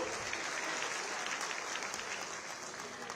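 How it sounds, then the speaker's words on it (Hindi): A crowd at a chief minister's public event in Mathura, during a children's first-feeding ceremony, keeps up continuous applause, a dense wash of clapping heard from some distance, moderately loud and unbroken. "आप सभी जोरदार तालियां मंच तक पहुंचाएं।"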